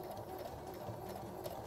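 A sewing machine stitches fabric in one steady, continuous run, close up and at moderate volume, with no talking.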